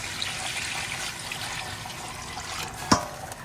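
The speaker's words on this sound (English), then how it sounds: "so I'm adding the water," Water poured from a container into a pot of seasoned turkey neck, a steady close splashing trickle ending with a brief clink of metal.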